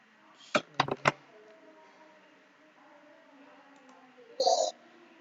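Keys on a computer keyboard clicked in a quick cluster of three or four sharp taps, then one more louder clack a few seconds later, close and crisp over a faint quiet room hum.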